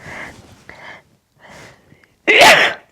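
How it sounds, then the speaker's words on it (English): A single loud, explosive sneeze bursts out after a few moments of quiet, muffled talking. "Just a moment, I have to sneeze."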